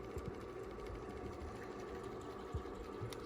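A Taycol vintage electric motor from a large toy boat runs steadily with a buzzing whir, close and moderately loud, with a few small knocks as it is handled.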